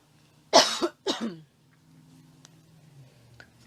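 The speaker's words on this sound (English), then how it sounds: "Didn't want to cough in your ear." A man gives two quick, close coughs, then the room goes quiet with faint background hum and a few small clicks.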